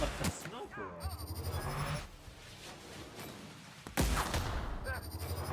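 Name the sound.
sniper-like rifle gunfire in the video game The Outer Worlds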